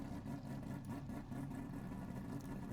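Quad-rotor racing car engine in the Assetto Corsa driving game, a steady, dense mid-pitched droning hum at idle with a slight buzzy whir, holding constant throughout with no talk.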